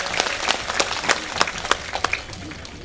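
An audience at a Buddhist Dhamma conference in Wardha claps in a brief burst of applause, with scattered distinct hand claps standing out from a steady patter in a hall.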